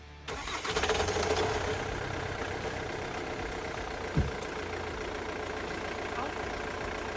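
A Ford Mondeo Mk3 2.2-litre diesel starts up after a starter motor replacement: a short crank catches within a second, then settles into a steady, fairly loud idle, with one brief knock midway through.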